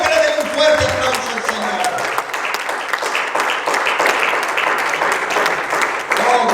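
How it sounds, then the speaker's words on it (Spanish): A church congregation gives strong, continuous applause, many hands clapping densely throughout, with some voices and talk mixed in over the top. "Si usted lo cree, denle un fuerte aplauso"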